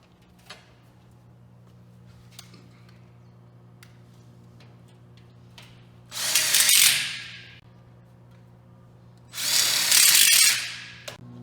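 A power drill twice drives screws into a clamped pipe coupler in two loud whirring bursts, each about a second long, with faint clicks and handling noises in the quieter stretches between.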